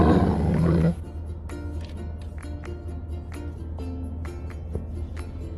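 A child imitates a tiger's roar at the zoo, with a loud rough vocal burst at the start followed by quieter voices and background chatter.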